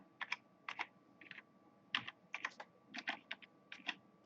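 Quiet, close computer keyboard typing of Python code: short bursts of crisp key clicks in an irregular rhythm with brief pauses between groups, no talking.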